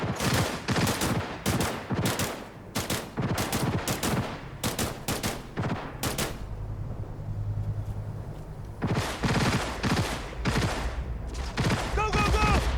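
Rapid bursts of automatic gunfire in the Cyberpunk 2077 video game during an attack on corporate property, loud and close, with a brief lull midway before the shooting resumes.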